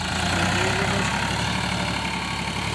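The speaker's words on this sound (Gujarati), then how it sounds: "ટ્રેક્ટર ચાલુ થઈ ગયું છે" Tractor engine running in a farm field, a steady low idling rumble that holds at an even level throughout, close by.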